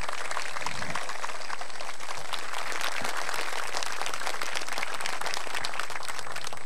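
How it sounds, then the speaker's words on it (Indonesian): Sustained applause from a large studio audience at a TV talk show, a dense steady roar of clapping that continues throughout. "Pak Ahok, tepuk tangan dong."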